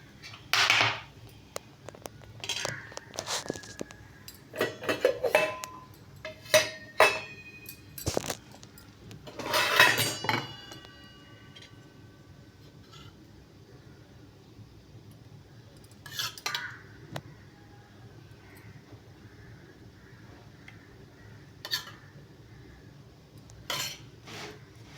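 Metal utensils clink and scrape against a pan while something roasts until crisp, sharp clusters of clinks in the first ten seconds, then quieter with a few scattered taps later, no talk.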